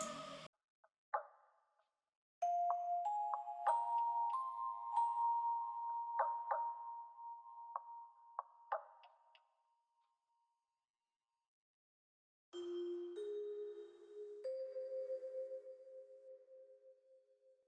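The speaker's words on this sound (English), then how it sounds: "The last thing I did was add this bell sound right here." Clear, bright bell tones in a dark R&B beat play a short melodic phrase, sustained notes ringing out and panned, a pause, then lower bell notes resume.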